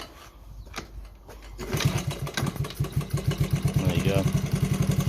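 A 1970 Honda ST50 Dax motorcycle engine coughs into life after a brief quiet start, then settles into a fast, loud putter close by. A voice speaks briefly just before it fires.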